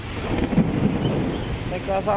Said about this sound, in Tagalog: pang kidlat po yan.